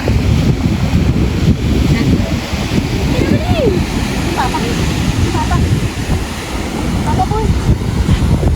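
Big ocean waves roll in at the beach under rough weather, a constant loud rushing surf mixed with heavy wind buffeting the microphone, with faint voices in the background.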